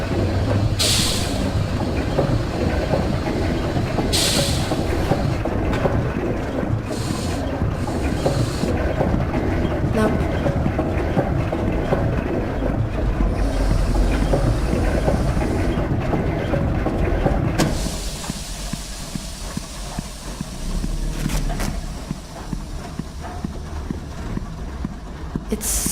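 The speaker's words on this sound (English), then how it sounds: "It's some kind of steam engine." A steam engine in the game Lorelai runs with a loud, steady mechanical clatter and hiss, its rhythm cutting in and out with sharp bursts before settling into a lighter, quieter chugging.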